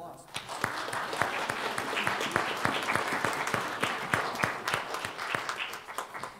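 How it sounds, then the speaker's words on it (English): A church congregation applauds its Scouters during a Sunday service, a fairly close mix of distinct individual claps over a steady crowd patter, lasting several seconds with faint voices underneath. "Let's give them a round of applause"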